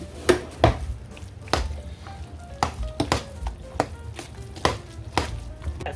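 A spoon stirs a casserole seasoned with black pepper and seasoned salt in a pan, giving repeated scraping knocks against the pan in an irregular rhythm, close and fairly loud over a faint background.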